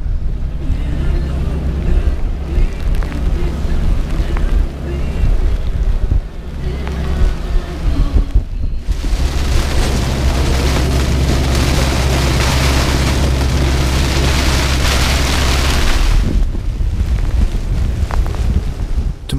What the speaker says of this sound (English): the wind suddenly picked up to westerly gale force